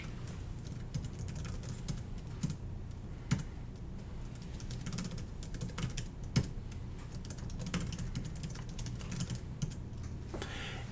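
Typing on a computer keyboard fills the span with steady, close clicking keystrokes in irregular bursts, a few sharper key strikes standing out, with no voices.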